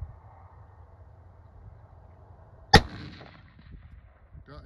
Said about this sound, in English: I'm going to shoot the one above it.